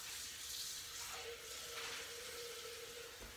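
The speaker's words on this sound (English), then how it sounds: "put a spot of washing up liquid in, fill it with some water" Water runs into a Thermomix bowl that has a spot of washing-up liquid in it, a soft steady rushing pour at low level.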